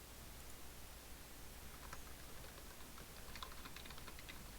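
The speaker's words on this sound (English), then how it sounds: "typing" Soft keystrokes on a computer keyboard click in short bursts against a faint hiss, quiet and close, with no one speaking.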